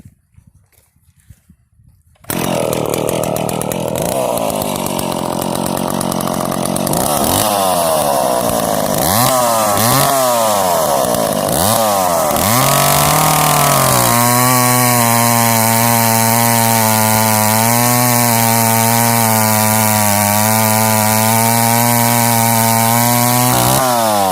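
A vintage Pro Mac 700 chainsaw starts up and cuts through wood, its loud two-stroke engine revving hard and then bogging into a sustained bar-and-chain cut, close and continuous.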